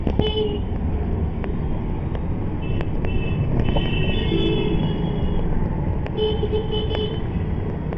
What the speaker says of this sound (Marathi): रिक्षामध्ये बसून आम्ही आता निघालेला आहोत जीवदानी मातीकडे